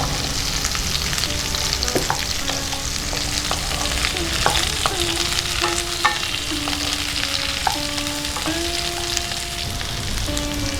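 Cut pointed gourd pieces fry and get stirred in a pan: a constant crackling sizzle with periodic scrapes and clinks, moderately close.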